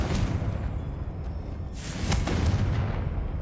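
A Confringo blasting spell goes off in Hogwarts Legacy, heard as a loud booming burst with a whooshing surge of noise partway through, lasting the whole short moment with no talk.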